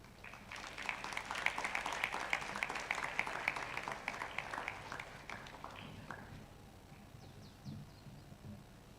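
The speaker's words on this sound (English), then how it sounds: "Let's clap for them once more." Audience applause after a panel discussion, dense clapping for about six seconds before tapering off into scattered claps and faint room noise.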